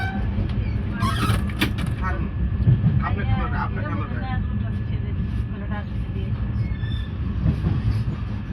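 A train rumbles steadily along the rails from inside a carriage, a constant low roar with faint squeals, while people chat nearby over it.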